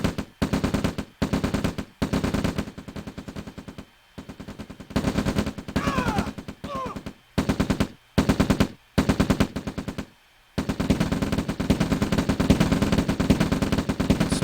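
Sustained machine gun fire in a real-time strategy video game, delivered in long loud bursts separated by brief silent gaps, with a continuous stream of rapid shots closing out the sequence.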